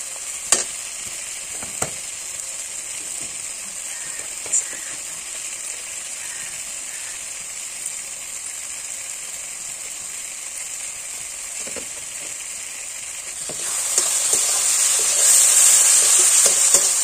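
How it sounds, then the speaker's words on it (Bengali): Paneer masala with capsicum and tomato sautés in a pan, giving a steady sizzle and frying hiss throughout with occasional stirring scrapes; the sizzle grows louder near the end. No one speaks. "এটাকে ভালো করে কষিয়ে নিব আমি এবার।"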